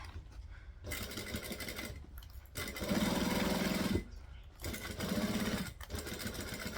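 A sewing machine stitching a coffin-shaped handbag, running in short bursts separated by pauses, its motor whirring and the needle chattering rapidly when it speeds up, fairly quiet and close.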